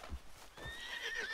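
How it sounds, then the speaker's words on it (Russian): A horse in the video game Red Dead Redemption 2 gives a loud, drawn-out neigh. Heavy hoof thuds come just before it, and there is no talk. "Чертова лошадь, она вообще убежала."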